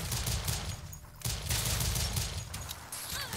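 Rapid gunfire from the side-scrolling video game Rise & Shine, a dense continuous volley of shots with a brief break near the middle, loud and steady with no talking.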